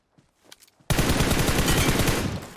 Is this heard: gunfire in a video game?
yes